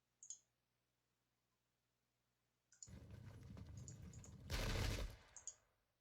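Musket volleys and cannon fire in the Pike and Shot strategy game, a dense crackling burst of gunfire swelling to a louder blast, framed by brief isolated clicks, with no talking.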